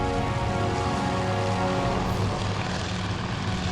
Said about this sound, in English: Those look like torpedo bombers going in.